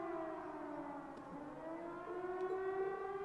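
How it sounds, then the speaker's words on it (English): A civil-defense style siren wails from the fort in Trails of Cold Steel, a steady rising and falling tone that holds throughout at moderate distance, with no talking. "What's that? It sounds like a siren."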